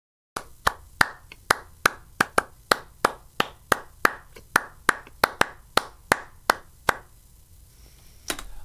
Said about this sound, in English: I wanted to do just like a whole bunch of like claps and stuff to see what I could put in there.